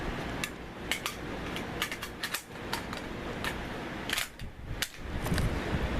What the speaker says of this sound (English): Let's see if I can cock this thing with one hand.